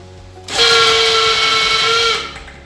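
Electric starter dynamo of a Honda Vario Techno motorbike whirring loudly and steadily for about one and a half seconds, a high-pitched motor whine with strong tonal harmonics that starts abruptly and cuts off, with no talk over it.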